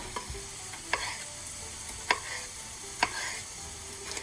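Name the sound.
onions sizzling in frying pan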